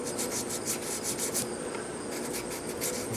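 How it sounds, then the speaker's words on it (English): Sandpaper is rubbed back and forth along a guitar fret on a Stratocaster, making a close, continuous rasping scrape with quick rhythmic strokes and no talking. "I kind of get my fingernail hooked on over there to get the pressure on the sandpaper where I want it."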